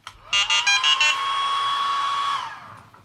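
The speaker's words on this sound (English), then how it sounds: "You get the fan noise initially, but then it shuts off." A Hobbymate D6 Duo Lite charger's cooling fan spins up with a few short chirps, then gives a steady whirring whine for about two seconds before winding down and stopping.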